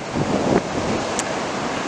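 Ocean waves at Anglet beach, a soft wash of surf with a light swell near the start, under steady wind noise on the microphone, fairly faint and distant.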